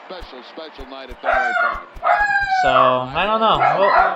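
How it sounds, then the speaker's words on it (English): A dog barks repeatedly and breaks into drawn-out howling yelps, loud and close indoors, while someone talks over it. "sorry about the dog barking"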